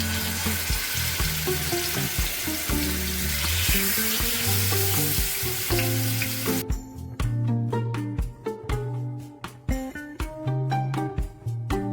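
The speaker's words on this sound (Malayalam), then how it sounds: "ആദ്യം നമുക്ക് ഫിഷ് നല്ല പോലെ ഒന്ന് പൊരിച്ചെടുക്കാം." Fish frying in hot oil for a Malabar fish biryani, a steady close sizzle running throughout with music playing alongside.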